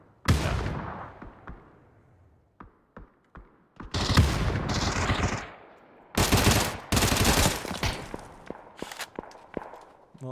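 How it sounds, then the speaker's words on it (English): Gunfire in the video game PUBG during a qualifier match: sharp isolated shots and bursts of rapid automatic fire, loud and close, with short quiet gaps and footsteps between volleys. "Well, Tim, nice shots, just one more, and he will find it eventually"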